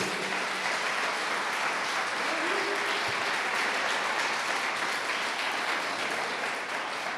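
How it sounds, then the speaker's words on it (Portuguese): A church congregation applauds in a steady, full-room wash of clapping that holds evenly throughout, with no clear voices above it. "Alguém pode aplaudir a Jesus por isso?"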